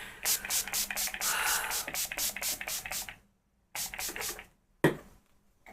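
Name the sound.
setting spray being sprayed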